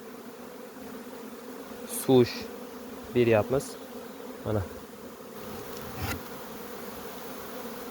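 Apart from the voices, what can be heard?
honeybees buzzing at an open beehive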